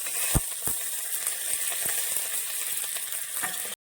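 Onion, dried red chili and curry leaves crackle and sizzle in hot mustard-seed tempering for a vegetable sambar, a steady close frying hiss with scattered sharp pops, no voices.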